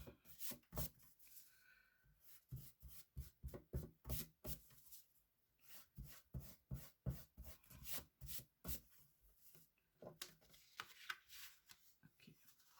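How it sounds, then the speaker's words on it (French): An eraser scrubs pencil marks off paper in a stamped wedding album craft project, producing brisk, repeated rubbing strokes close up, steady and rhythmic with brief pauses between passes. "j'enlève les traces de crayon papier"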